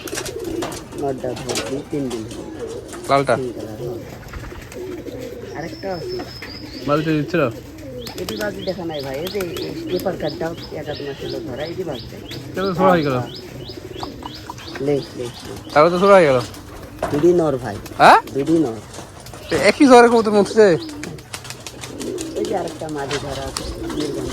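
Giribaj pigeons coo in soft, repeated bursts at close range, with occasional chirps and wing flaps, while people talk steadily over them throughout.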